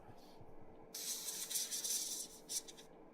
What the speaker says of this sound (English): Just give the back quick spritz, because that needs to be darker anyway.